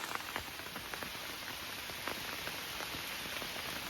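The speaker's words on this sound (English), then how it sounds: "And it's absolutely pissing down, which is great." Heavy rain pours steadily at a carp fishing lake in the evening, a dense continuous hiss with frequent close drops pattering on a nearby surface, no voices.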